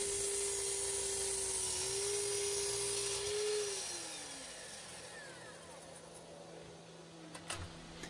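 A power tool cuts out the center section of dimensional lumber to form a mortise for an outdoor patio trestle table leg; a steady whining cut runs for about four seconds, then winds down into quieter background.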